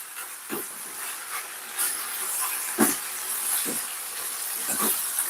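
Sweetened liquid simmers in a pot on the stove, giving a steady close hiss broken by a few soft pops and bubbles. No one speaks.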